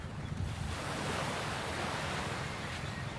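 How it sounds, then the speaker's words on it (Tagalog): Sea waves wash steadily onto the shore, a continuous loud broadband surf with wind rushing across the microphone, no voices. "Kadating lang natin sa dagat"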